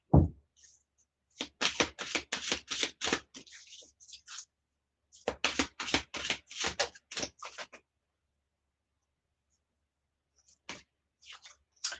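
Tarot cards are shuffled in two quick runs of rapid, papery riffling bursts, followed by a few soft scattered taps. The sound is close and fairly quiet, with no talking.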